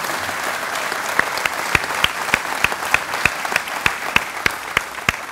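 An audience at an Indiana company expansion announcement applauds, with a steady wash of clapping and sharper individual claps standing out close by, sustained throughout.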